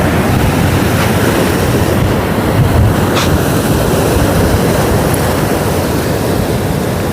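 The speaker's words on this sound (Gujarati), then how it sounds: "આ તો જોવો યાર કેટલા મોજા ઉપડે યાર" Loud, continuous rough surf roars and washes without a break on the beach at Porbandar, with wind buffeting the microphone throughout; no voices.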